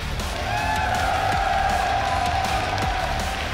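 Crowd of fans cheering at a StarCraft II tournament, WCS Montreal 2017, a steady, loud wash of cheers and whoops filling the hall throughout with no pauses.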